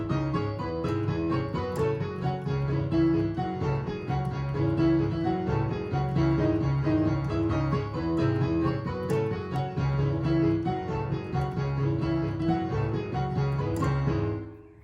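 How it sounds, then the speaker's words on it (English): Piano plays a theme, a steady, repeating chord pattern with a driving, even rhythm, full and continuous for around fourteen seconds before fading at the end. "all 4 parts sound like this"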